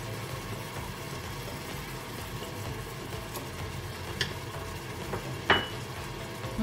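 Minced meat with crushed tomatoes and tomato paste browns in a pan, a steady low sizzle running throughout, broken by a couple of faint clinks of stirring near the end.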